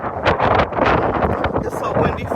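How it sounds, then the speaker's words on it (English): Heavy wind buffeting a microphone, a loud roaring rumble that gusts unevenly throughout with no clear voice over it. "It's so windy"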